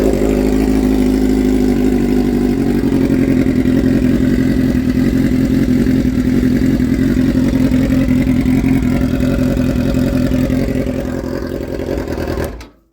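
A 2005 Suzuki GSX-R 600 motorcycle engine runs steadily at idle, a loud, close, continuous mechanical drone with an even clattering pulse, cutting off near the end.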